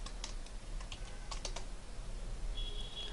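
Keys clatter on a computer keyboard in a quick, light burst of several clicks, close and fairly faint over a low steady hum, with no one speaking.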